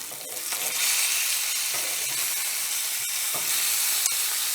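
Lamb loin chops sear in a cast iron skillet, giving a steady, loud broadband sizzle with fine crackling spits and a few sharp pops throughout, no voices present.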